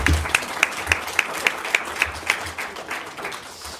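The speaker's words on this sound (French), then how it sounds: "On peut à nouveau l'applaudir." Audience applause at a management talk, with a crowd clapping together and some evenly spaced louder claps standing out at first before the sound thins toward the end.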